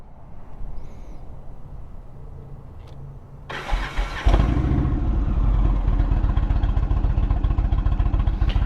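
Indian motorcycle engine cranking and catching after quiet background, then settling into a loud, rapid, throbbing idle close by.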